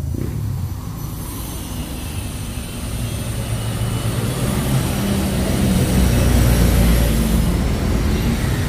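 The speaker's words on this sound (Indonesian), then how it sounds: "itu mobil truk doang lewat bro" A truck rumbles past close by, a low broadband roar that swells louder toward the end before easing off.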